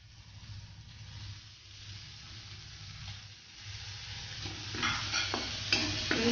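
Spice mixture and soaked moong dal being sautéed in a pan, a steady soft sizzle with scraping stir strokes that grow louder and brighter toward the end, no voices.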